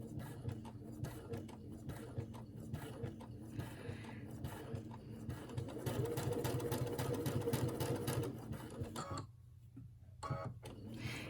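A sewing machine stitches fabric through a ruffler foot, running in a steady mechanical drone with a ticking rhythm. It grows louder midway, then stops briefly before starting up again, with no voices.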